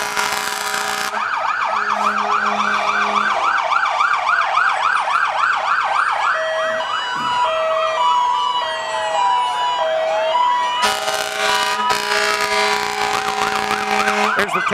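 Fire truck sirens wail through a small-town egg festival parade, with rising and falling electronic tones, a yelping pattern and horn blasts overlapping loudly and continuously as the trucks roll past.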